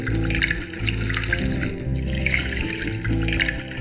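Cold water runs steadily from a tap, splashing and gurgling continuously at close range over a music background.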